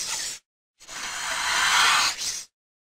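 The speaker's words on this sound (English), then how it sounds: "What sound does it snake make?" A snake gives two loud, breathy hisses, a short one then a longer sustained one that swells and fades, close and alone with no other sounds.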